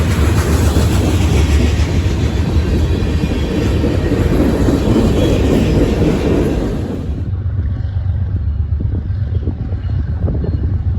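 A long CSX freight train of over 160 cars, led by a Dash 9 locomotive, rolls past near Fostoria, Ohio. Its loud, dense rumble and wheel clatter ease to a quieter rolling sound about two-thirds of the way through.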